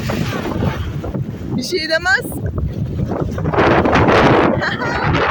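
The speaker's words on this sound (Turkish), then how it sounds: "esiyor ama biraz dalga da var" Wind gusts across the microphone at sea with waves washing around a boat, a constant rushing roar with a brief voice heard over it.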